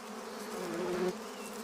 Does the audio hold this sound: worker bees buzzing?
yes